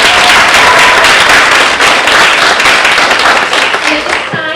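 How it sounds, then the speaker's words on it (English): Loud, sustained applause from a crowd at a nursing scholarship fund kickoff, dense clapping that fades slightly toward the end. "So another round of applause for our"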